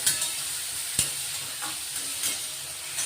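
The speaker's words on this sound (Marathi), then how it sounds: "टोमॅटो कांदा चांगले परतून घ्यायचे" Chopped onion and tomato sauté in a pan for a homemade soup, a steady soft sizzle with scraping spoon strokes stirring through, one sharper knock near the start, no voices.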